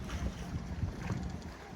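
Gusty wind buffets the microphone at a sailboat dock, with roughly 6 to 8 knot gusts producing a continuous low rumbling roar that swells and eases, with faint water sounds underneath.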